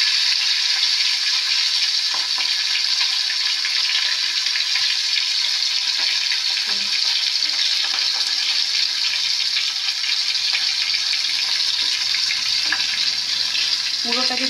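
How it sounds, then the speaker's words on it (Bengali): Fish head frying in a pan of oil, a steady close hiss and sizzle with light crackles that continues the whole time. "মুড়োটা একটু এই সাইডটা একটুখানি ভেজে নিলাম।"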